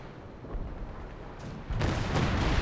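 Rumbling artillery fire and distant explosions from a Company of Heroes 2 battle on the Across the Rhine map, a steady low roar that swells into a heavier burst of booms partway through.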